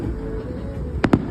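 Two sharp pops go off in quick succession from Fourth of July fireworks at a Riverwalk display, rising over a low rumble of outdoor background noise.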